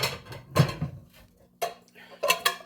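Someone fetches a bowl and handles kitchen dishes, setting down several short clinks and clatters of crockery and utensils in bursts, close and fairly loud.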